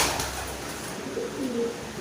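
Soft, low pigeon cooing rises briefly near the end over a steady muffled background hum; no voices.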